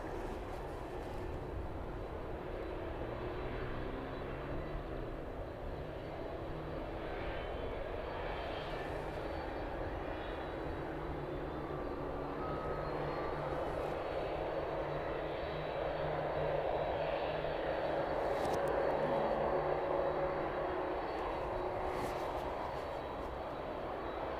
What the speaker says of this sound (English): Right now, making its way off of the apron onto the taxiway.